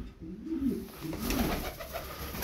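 Tumbler pigeons coo softly close by, with low, rolling throaty calls repeating over a quiet background.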